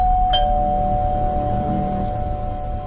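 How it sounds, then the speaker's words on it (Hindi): A doorbell rings once with a bright electronic chime that holds and slowly fades over a steady low background hum, with no voices. "घंटी बजी।"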